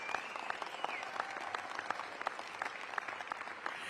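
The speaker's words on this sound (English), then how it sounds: "Let's do a round of applause, please." An audience claps steadily at an Events DC partnership announcement in Congress Heights, a dense, sustained round of applause heard from within the room, with no voices on top.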